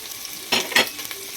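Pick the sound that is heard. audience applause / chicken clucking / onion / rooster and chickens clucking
onion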